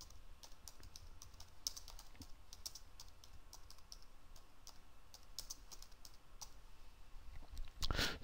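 Quick, irregular clicking keystrokes on a computer keyboard continue throughout, close and fairly quiet, ending with a louder clack.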